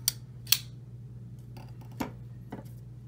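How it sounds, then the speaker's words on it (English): Civivi Elementum folding knife with brass scales and a black stonewash D2 blade being flicked open and closed, giving a few faint, sharp metallic clicks spaced apart over a quiet hum. "you got more lower audible action on the brass versus the G10"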